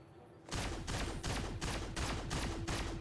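Flare guns fire in the Fallout: New Vegas video game, a rapid run of about seven loud, sharp shots in steady rhythm, close and with no talk.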